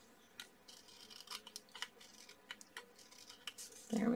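Scissors trim paper cardstock in a series of quick, faint snips and crisp cuts close by, spaced irregularly, ending with a brief louder rustle.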